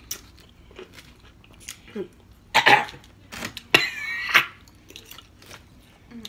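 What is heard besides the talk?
chewing and biting chicken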